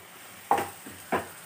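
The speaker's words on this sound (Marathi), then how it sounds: "तर कांदा आपला भाजतो आहे" Onion frying in a pan for mushroom korma, with two soft stirring scrapes over a faint background sizzle.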